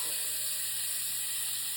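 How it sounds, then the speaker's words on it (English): Hot oil sizzles and crackles in a constant, loud hiss, as meat for vegetable beef soup sears in a pan close by. "You hear that sizzling?"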